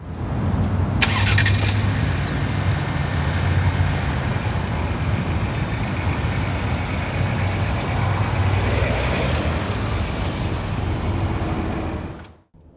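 A 2025 Lincoln Aviator fires up and pulls away, its engine and road noise droning steadily and loud close by, with a brief squeal early on, before fading out at the end.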